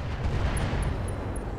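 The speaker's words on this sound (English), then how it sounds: "Ammo explosion, pilot injured again." Ammo explosion in the BattleTech RogueTech video game: a dense, roaring blast rumble with heavy low-end crackle sustained over a second and a half, accompanied by faint high interface beeps repeating evenly.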